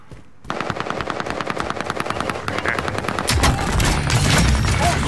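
A Bren machine gun fires in Call of Duty: Modern Warfare, a loud, rapid, steady automatic burst of evenly spaced shots lasting several seconds, with heavier booms joining near the end.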